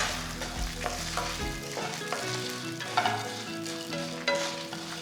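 Red and green chillies, ten dried and four fresh, roast and sizzle in a hot pan, a steady crackling fry with occasional stirring scrapes, close and alone without talk.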